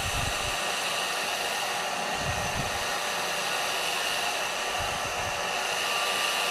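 A Nova hair dryer runs steadily throughout, a constant loud airy whir with a high motor whine, close by and alone with no talking, with faint low bumps as the airflow shifts.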